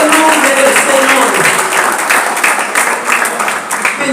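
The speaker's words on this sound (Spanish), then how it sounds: "regálele al Señor aplauso" A church congregation applauds during a sermon, loud dense clapping with a bright rhythmic texture running throughout, mixed with voices over the top.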